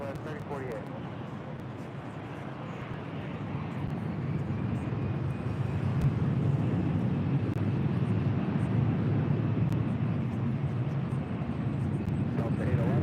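Southwest airliner lining up on runway 24 left at LAX, a steady broadband engine roar that swells after a few seconds and holds loud and close, with radio voices talking over it.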